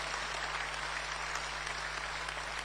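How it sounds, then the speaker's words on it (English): Hall audience applause for a national party chairman at a political gathering, a continuous even wash of clapping heard at a distance over a steady electrical hum. "Shall we give our national chairman another rousing round of applause?"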